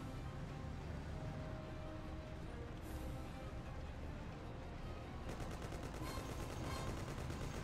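Rapid bursts of gunfire crackle over a steady rumbling background, growing into a quick rattling volley toward the end.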